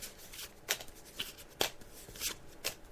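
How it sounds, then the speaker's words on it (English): Tarot cards being shuffled by hand, a quiet series of short crisp riffling bursts, about half a dozen spaced irregularly over a few seconds, close and alone without talk. "So I'm just shuffling the cards now."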